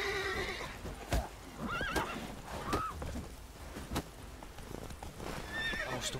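Horses in the Witcher 3 video game clip-clop and neigh, with several rising whinnies and sharp hoof knocks spread across the moment, moderately quiet with no voices.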